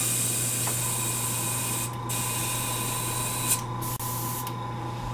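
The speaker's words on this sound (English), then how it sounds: "we'll just spray it out into our spray pot" Continuous hissing spray of an airbrush spraying thinner into a spray pot, close and steady, with a couple of brief pauses and a faint click.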